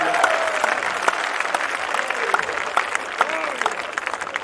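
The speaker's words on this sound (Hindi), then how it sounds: "एक बार तालियां बजा दो उनके लिए।" Audience applause at a Hindi kavi sammelan poetry gathering, a sustained wash of clapping from the crowd with a few sharper individual claps and faint voices mixed in.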